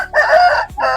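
A rooster at a busy poultry market lets out a loud, close crow, a strained cry that breaks off briefly and then picks up again.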